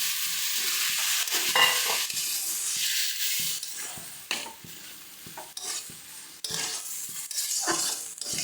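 Boiled lentils being added to a pan of spiced cauliflower stalks, with steady stirring and soft sizzling as the spoon scrapes through, moderately close and with no talking.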